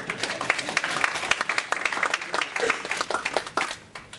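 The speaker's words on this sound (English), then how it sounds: "I think Stephen Deere should get a round of applause" Audience clapping at a university mathematics lecture, a round of fairly close, uneven individual claps that swell and then taper off toward the end.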